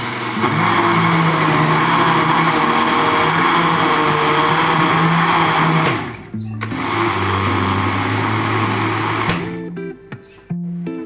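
A juicer machine grinding ingredients for homemade ketchup, a loud close motor whine running steadily, cutting out briefly near six seconds, then resuming before stopping with short stuttering bursts at the end.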